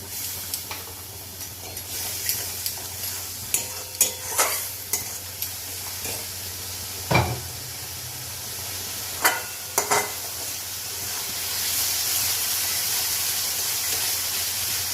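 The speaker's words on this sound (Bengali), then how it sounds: "এবার দেখবো একটু হলুদ দিয়ে একটু জল দেবো দিয়ে একটু কষে নেবো ভালো করে" Fish curry base for bhetki jhol with potato and bori, sautéed with turmeric and a splash of water: a close hiss with irregular scraping stirs and clinks, then a steamy sizzle swelling near the end.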